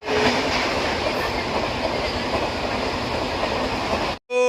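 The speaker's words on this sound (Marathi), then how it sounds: "आमची ट्रेन आलेली आहे" A train rolls loudly into a station with a dense, continuous rumble and rattle of wagons, then cuts off into a brief gap followed by a short burst of sound.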